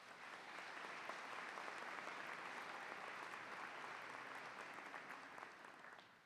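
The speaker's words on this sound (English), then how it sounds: "to give us a round of applause" An audience at a law school commencement ceremony breaks into a round of applause, a dense, steady wash of clapping from a large crowd heard at a distance that swells briefly and then fades.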